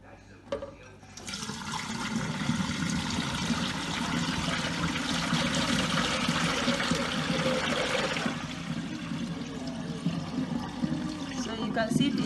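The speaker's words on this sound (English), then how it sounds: "we are going to remove the water on top of it" Water is poured off the top of Nigerian akamu corn paste that has settled for three days, a continuous splashing, trickling stream that runs close and steady before tapering off, with someone talking over it.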